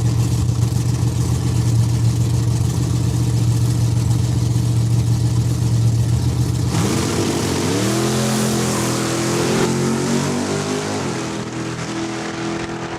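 Race cars run time trials at Saskatchewan International Raceway: a loud, steady engine drone, then a rising rev as a car accelerates away, its engine note sweeping upward and fading slightly.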